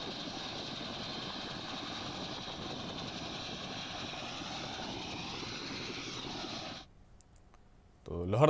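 Army helicopter at the Gumla aerodrome, sending off polling staff for an election: a steady, loud engine and rotor roar that holds for about seven seconds, then cuts off abruptly into near quiet before a brief burst of noise at the end.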